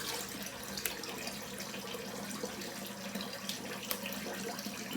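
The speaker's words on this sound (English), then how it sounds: "Cold water rinse" Cold water running from a bathroom tap for a rinse after shaving, a steady close hiss and splash of the stream into the sink that continues unbroken, with a couple of faint knocks.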